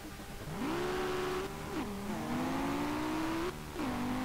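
Ford Ka engine in the SLRR racing game, accelerating hard with rising revs that shift through several gears, loud and close with no talk over it.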